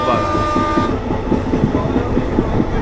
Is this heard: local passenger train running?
yes